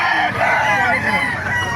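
A rooster crows loudly and close, one long drawn-out call filling the whole moment, with faint voices in the background, at a rooster market in Bocaue, Bulacan.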